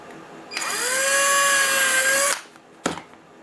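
Power drill boring a larger hole in a 1/14 Tamiya Grand Hauler rollback truck part, backed by a piece of wood: one loud, steady whine of about two seconds that rises as it spins up, then a short clunk.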